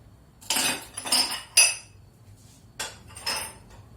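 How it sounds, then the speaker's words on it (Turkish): A spoon knocks and scrapes against a pot of vanilla milk pudding in five sharp metallic clinks spaced across a few seconds, close and clear over a quiet background. "Şöyle bir karıştırıyorum."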